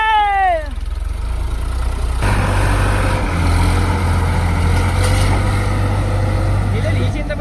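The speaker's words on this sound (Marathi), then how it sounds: "तो गाइस हमारा ट्रैक्टर निकल चुका है." A tractor engine runs with a steady low drone throughout, loud and close, after a brief rising whine at the start.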